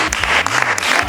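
A church congregation applauding together, a dense, loud wash of steady clapping filling the whole moment.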